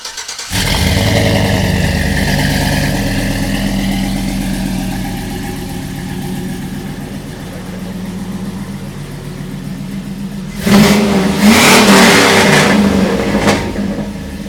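A 2005 Chevy Avalanche with a 327 engine, headers and custom exhaust starts up close by, settles into a loud rumbling idle, then revs sharply near the end.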